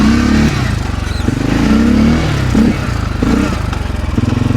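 A CFMOTO ATV with engine trouble revs in four-wheel drive while its tires spin, giving a loud, steady mid-pitched engine drone that rises and falls in several surges, close by with no talk.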